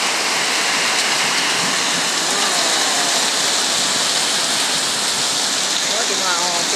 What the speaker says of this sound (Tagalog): ulan, oh.